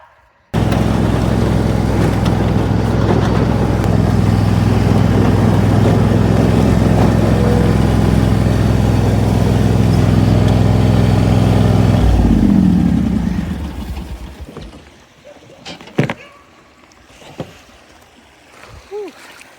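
A vehicle engine roars loudly and steadily up close, then winds down and cuts out, leaving quieter clunks and faint background sounds.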